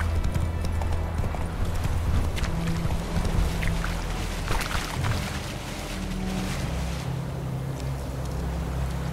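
Horse Roach's hooves clip-clop steadily in The Witcher 3 video game, a continuous rhythmic trot under wind-like ambience, moderately loud throughout with no talking.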